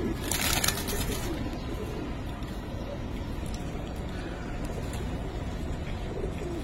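Giribaz pigeons, including silver and Subchila types, coo continuously in a dense close chorus, with a brief louder burst at the start and a faint vehicle hum beneath.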